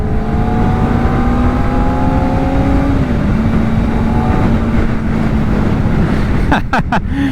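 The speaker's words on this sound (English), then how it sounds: "the smoothness of the engine and the sound that it makes, that is the best part of this bike" A 2024 Kawasaki Ninja ZX-4R engine revs and pulls up through the rev range, its smooth whine rising and shifting pitch, loud and close with wind roar, ending in a few sharp bursts.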